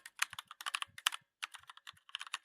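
Quick, irregular keystrokes clatter on a computer keyboard while a folder name is entered in the Windows 11 command prompt, crisp and close, in a short burst with one brief pause and no voices.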